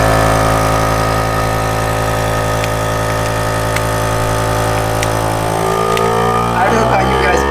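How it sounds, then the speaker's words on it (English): A vacuum sealer pulls air from a bag of tuna with a steady mechanical drone and hum throughout, ending in a brief clatter as the seal finishes. "we're gonna put it on to operate and then hit vac seal"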